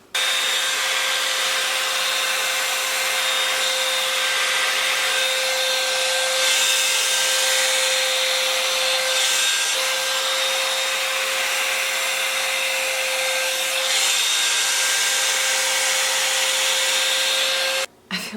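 Revlon dryer brush blowing steadily as it dries damp hair, a continuous close whirring hiss with a faint whine, running alone without pause until it cuts off at the very end.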